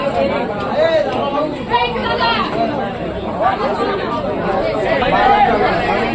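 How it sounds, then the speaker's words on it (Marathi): A crowd chatters steadily at a busy Ganpati idol shop, with many overlapping voices forming a dense, continuous hubbub throughout. "भरपूर गर्दी"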